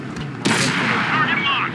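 A tank cannon fires once in World of Tanks, opening with a sharp, loud blast followed by a long rumbling, ringing decay, with faint game voice cues around it.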